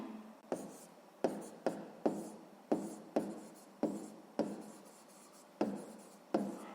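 Pen writing on paper while working a sixth-grade math exercise: a series of close, crisp scratchy strokes, about a dozen short bursts in an irregular rhythm, with no talking.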